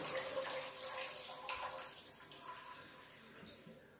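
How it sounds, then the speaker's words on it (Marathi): Hands are washed under a running kitchen tap, a faint steady splash of water with light drips that softens toward the end. "हात धुवून घेतो पहिला."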